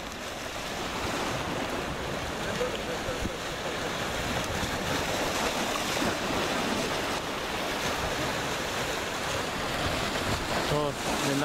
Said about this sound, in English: Nice big waves.